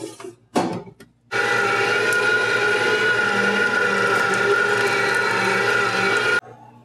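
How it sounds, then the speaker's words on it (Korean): An electric meat grinder grinding meat for smoked Italian sausage: a few brief clunks, then the motor starts and runs with a loud, steady whirring drone for about five seconds before cutting off abruptly. "자, 그럼 이제 고기를 갈아 줄게요"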